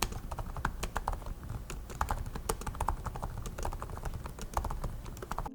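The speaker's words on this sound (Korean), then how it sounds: "타건 소리를 들려드리면 이런 느낌이고요" Steady, rapid typing on the cushioned keyboard of a Samsung Galaxy Book3 Pro 16-inch laptop gives a continuous stream of soft, quiet key clicks with no voices.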